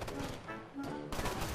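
Rapid bursts of gunfire in Tom Clancy's Ghost Recon Future Soldier rattle continuously and loudly, with a brief dip in the middle before the firing picks up again.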